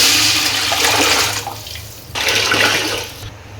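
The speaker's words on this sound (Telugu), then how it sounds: "వాటర్ వేస్తున్నాం" Water is poured in two loud gushing bursts into a pot of prawn biryani, each splash rushing and then trailing off, with no talking.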